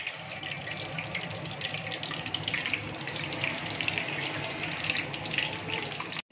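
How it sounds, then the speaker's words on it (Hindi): Nuggets going into hot oil for a cheesy fry, giving a steady, close hiss of sizzling that holds evenly for several seconds before cutting off. "अब हम इसको गर्म ऑयल में डालेंगे।"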